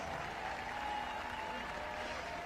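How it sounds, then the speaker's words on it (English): A crowd applauding two competitors after a close heat of the 2015 Murph workout: faint, steady, distant-sounding clapping blended with crowd murmur in a large reverberant space. "Let's give those two a round of applause."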